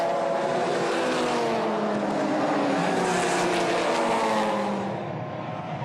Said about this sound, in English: Kundouris gets maybe a car length advantage heading into turn one from Max Twigg